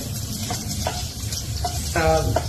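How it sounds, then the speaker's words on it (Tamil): Vegetables sautéing in mustard oil give off a steady close sizzle with scraping stir strokes, and a voice talks briefly over the cooking. "ஸோ மஸ்டர்ட் ஆயில் அதை வதக்கிட்டு இருக்கேன்"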